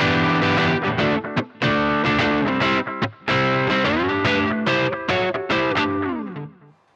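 Electric guitar basic rhythm tone through a switcher pedalboard and amp, mildly driven chords strummed in short bursts with brief gaps, loud and close, with no voices.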